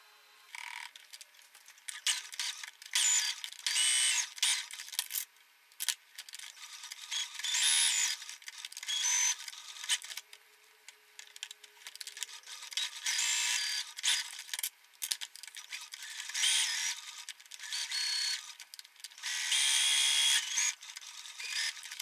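Sewing machine stitching the seams of a fabric bookmark in close, whirring mechanical bursts broken by short stops and starts.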